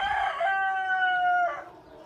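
A rooster crows once at a small desi hen farm in a rooftop coop, a long clear cock-a-doodle-doo held for about a second, close and loud, with no one talking.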